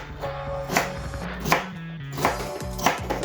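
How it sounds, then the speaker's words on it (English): A knife chops celery on a cutting board in a home kitchen, with regular sharp strikes roughly every three-quarters of a second over a steady low background hum. "I'm gonna cut up my celery."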